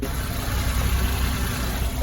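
A Daihatsu Hijet kei truck with a cold engine idling, a steady low rumble with an even mechanical hum held close and unbroken for the whole stretch, no talk over it.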